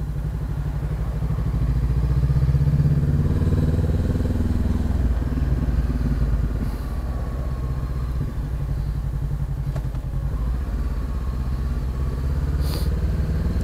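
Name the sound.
Honda CB500X motorcycle engine while riding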